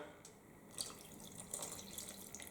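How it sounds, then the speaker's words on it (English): Vinegar is poured into a pot of collard greens and broth on a stovetop, a faint, steady liquid trickle with a few small splashy accents, no talking. "We're going to add our vinegar."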